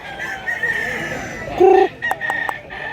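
Rooster crowing close and loud in a Cebu farmyard, one strong harmonic crow followed by short bursts, over steady background noise with another bird distant.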